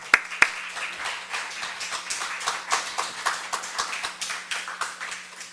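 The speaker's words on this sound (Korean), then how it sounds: "수고했다고 박수 한번 쳐줍시다." A church congregation at a Wednesday worship service claps together, a dense spread of hand claps filling the room at moderate level with a couple of sharper claps near the start, without any talk over it.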